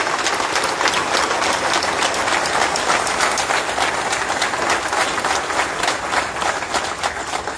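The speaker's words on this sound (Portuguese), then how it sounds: "Para todos vós, uma grande salva de palmas." A hall full of people at a political campaign launch for a municipal candidate breaks into steady, dense applause that keeps an even level throughout and fades slightly at the end.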